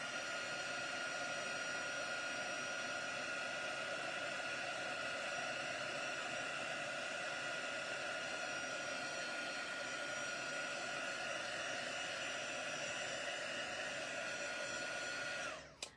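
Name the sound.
heat gun melting embossing powder on pine cone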